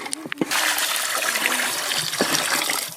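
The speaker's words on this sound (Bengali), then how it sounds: "মাংস কাটা হয়ে গেছে, পরিষ্কার করে ধুয়ে নেব।" Cut country chicken being rinsed clean in a village kitchen, with running, splashing water that starts after a few brief knocks and continues steadily and close, with a faint voice in the background.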